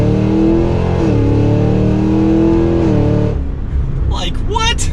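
A 2023 Cadillac Escalade V 4WD pulls hard from second gear, its engine note climbing and shifting in a loud, close, sustained roar before dropping away, with a voice speaking over it near the end.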